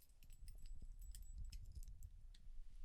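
A set of keys on a keyring with a small charm jangles softly and continuously close by, with light metallic clinks scattered through a few seconds.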